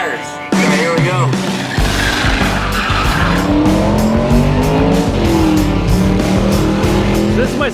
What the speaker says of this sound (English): let's see it burn some tires